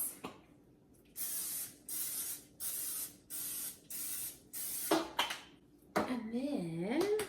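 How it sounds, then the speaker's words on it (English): Cooking spray hisses onto a mini bundt cake pan in a series of about seven short, even bursts, close and fairly quiet, followed by a bit of talking. "I'm just gonna spray it"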